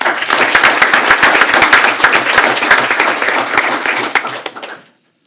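Audience applause at a school board of trustees meeting honoring a woman, a dense burst of many hands clapping loudly and steadily for about four seconds before tapering off to silence.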